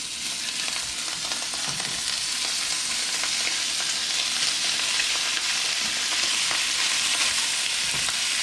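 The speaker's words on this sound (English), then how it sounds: "we're just gonna add our sausage in" Sausage and chorizo sizzle in a hot pan as pizza toppings are prepared, giving a steady, loud, broadband frying hiss with faint scraping and handling noises throughout and no talking.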